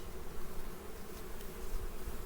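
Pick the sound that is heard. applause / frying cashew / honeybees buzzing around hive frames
honeybees buzzing around hive frames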